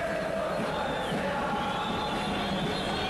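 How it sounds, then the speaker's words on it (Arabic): A large crowd of spectators fills a football stadium before the final of the Peace Tournament in Tel Keppe, Alamlouk versus Al-Hurriya, with a steady, dense roar and murmur that stays even and continuous throughout. "جمع كبير من الجماهير"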